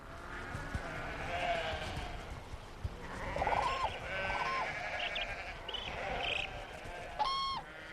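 Sheep in Ladakh bleat repeatedly, several animals calling at varying pitches, some close and others farther off, over a low outdoor background with faint bird sounds.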